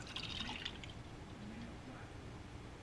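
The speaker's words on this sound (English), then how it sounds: "we're going to pour the quart of milk" A quart of milk is poured into a pot on a gas stove, a faint, soft liquid trickle with light dripping in a quiet room.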